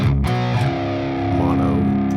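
Distorted electric guitar through a THU Slate plexi amp, mono with reverb off; a sustained, gritty chord rings loud and dry, alone.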